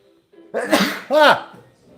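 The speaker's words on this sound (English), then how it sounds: "Right, gonna sneeze." A single loud, close sneeze in two voiced bursts, a sharp intake followed by the explosive release, in otherwise quiet surroundings.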